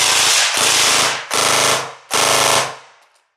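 Gel blaster fires gel balls in three rapid full-auto bursts, each a sharp rattling stream of shots, close and loud, with short gaps between them.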